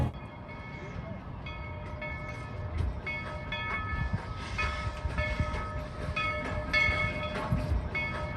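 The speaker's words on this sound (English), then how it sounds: "Please remain seated until the train has come to a safe and complete stop." A train at Tweetsie Railroad in Boone, North Carolina rumbles and clatters at a moderate distance, with metallic squeals and tonal whines as it slows, fairly quiet overall.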